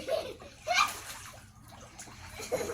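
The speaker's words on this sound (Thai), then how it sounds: "อากาศมันร้อนนะคะ ต้องเล่นน้ำหน่อย" Water splashes and sloshes during Songkran water play on a hot day, with one strong splash burst in the middle and smaller splashes around it, while a voice and other voices talk nearby.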